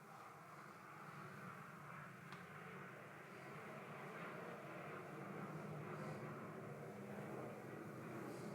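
An airplane passes overhead far in the distance, a faint, smooth engine drone that swells slightly and carries on steadily with no other sounds over it.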